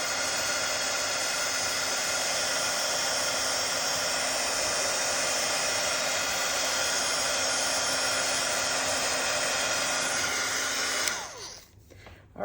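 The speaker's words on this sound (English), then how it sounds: "I think I'm gonna dry up our Wink of Stella really well." A hair dryer blows for about eleven seconds to dry Wink of Stella glitter ink on a handmade Christmas card. It gives a loud, steady, close roar that cuts off abruptly near the end.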